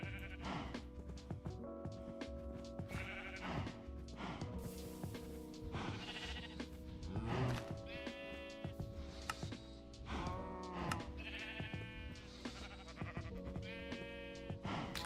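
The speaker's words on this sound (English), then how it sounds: "hearing all the mooing over here is just not my favorite thing" Passive farm animals in a Minecraft GregTech New Horizons mob farm bleat over and over in overlapping calls, set against a steady bed of in-game tones, with no voices.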